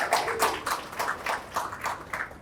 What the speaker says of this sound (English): Big round of applause for that